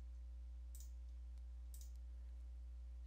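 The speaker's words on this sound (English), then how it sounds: "you want to just left click on the start button one time to open up the menu" Two sharp, faint computer mouse clicks about a second apart, made while clicking the Windows start button, over a steady low electrical hum with no talking.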